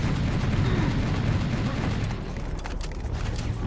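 Explosion blast wave in the Serious Sam video game, a loud sustained low rumbling roar that fills the whole clip and eases slightly toward the end, with no speech over it.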